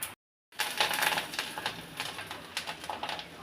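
Mustard seeds drop into hot cooking oil and set off a close, lively sizzle of scattered crackles and pops that gradually thin out.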